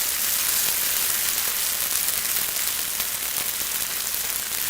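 Sambal fries in a pan with a loud, steady, dense sizzle that never lets up, close by and heard alone without talk.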